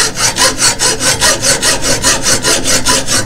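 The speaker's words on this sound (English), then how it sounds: "Hacksaw is cutting pretty good in there." Hacksaw cutting annealed 1095 steel for a knife blank, a loud, close, steady back-and-forth rasp with about a dozen even strokes, each pass bright and gritty, nothing else heard.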